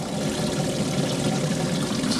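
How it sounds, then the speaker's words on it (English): Water pouring steadily from a pump into the live well of a small jon boat, a constant splashing rush with no break over a couple of seconds. "It takes a while to fill up the live well."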